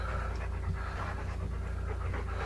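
An animal pants in a cave in rapid, continuous, close-up breaths that run through the whole stretch over a steady background hum, with no talk over it.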